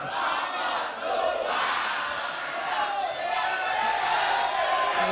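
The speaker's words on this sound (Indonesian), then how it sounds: "Boleh tepuk tangan." Audience at a public debate between regency head candidates in Bulungan clapping and cheering, loud, sustained crowd noise with shouting voices mixed into the applause.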